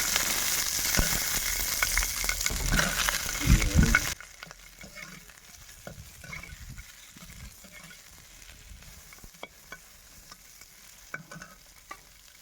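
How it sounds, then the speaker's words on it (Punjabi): Bell peppers (capsicum) roasting in hot oil in a pan for a Punjabi paneer dish, giving a loud, close sizzle with stirring scrapes for about four seconds, then a much quieter, fainter sizzle with occasional stirring clinks. "ਇਸੇ ਤੇਲ ਦੇ ਵਿੱਚ ਮੈਂ ਸ਼ਿਮਲਾ ਮਿਰਚ ਨੂੰ ਹਲਕੀ ਜੀ ਰੋਸਟ ਕਰ ਲੈਣੀ ਆ"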